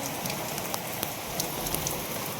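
Rain patters steadily on a surface, a dense hiss of drops with occasional sharper taps, no voices.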